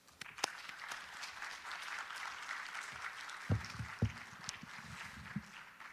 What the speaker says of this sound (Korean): 나오실 때에 크게 박수로 환영해 주시겠습니다